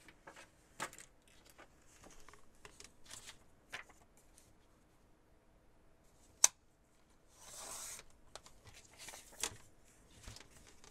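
Scissors snip paper for a junk journal in a handful of sharp, close cuts spread over a quiet stretch, with some light rustling and handling of paper between them.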